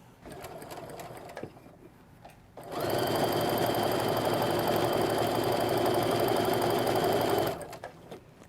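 A sewing machine stitches a straight seam on a quilt block, a steady close whirring hum running for about five seconds between quieter handling noises.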